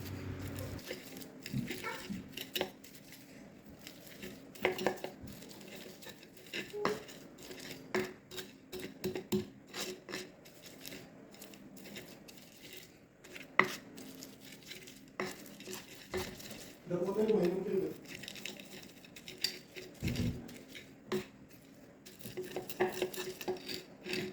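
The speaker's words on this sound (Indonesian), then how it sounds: "kemudian ditaruh di lemper atau cobek dan gurame ini dihaluskan ya sampai teksturnya benar-benar halus" Dry-fried gourami fish is ground in a stone mortar for sambal, giving quiet, irregular scraping and knocking strokes of pestle on stone with occasional sharper clacks.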